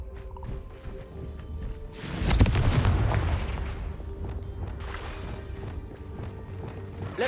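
A Confringo explosive spell from Hogwarts Legacy erupts in a loud, booming blast with a crackling, decaying tail. A second, lighter burst follows amid faint ambient game noise.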